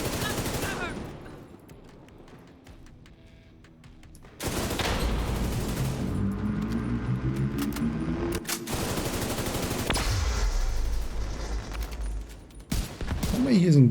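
Video game gunfire, with bursts of shots and impacts coming through dense game sound from about four seconds on, loud and sustained, with a voice speaking over parts of it.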